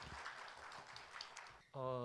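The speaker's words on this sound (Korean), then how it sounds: "큰 박수 부탁드립니다." Applause from an audience at a memorial ceremony and award presentation, a soft, steady patter of many hands that fades out and gives way to a speaking voice at the end.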